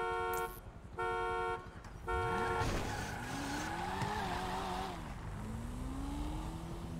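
In GTA V, a car's horn toots in three short blasts, then the engine revs up and drives off with rising and falling motor tone, moderately loud and without talk.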